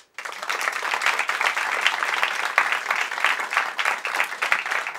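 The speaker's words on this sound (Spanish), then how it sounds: "aplausos para nuestro concursante número uno" Sustained audience applause for the first contestant of a lip-sync battle at a variety show, steady dense clapping from a crowd that starts abruptly and continues loudly throughout.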